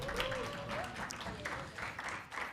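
An audience claps in a round of applause at a live event, fairly faint and uneven bursts under a speaking voice.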